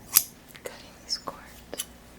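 Scissors snip during a Reiki ASMR cord-cutting session, a few quiet, close crisp cuts spaced apart, accompanied by soft whispering.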